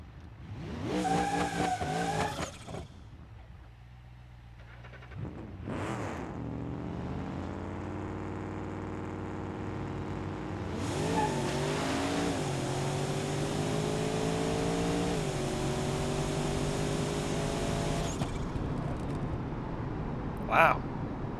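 Drag car launching in BeamNG.drive, the engine roaring close and loud as it revs up, climbing in pitch through several gear changes, with tire squeal during the launch and a steady drone afterward.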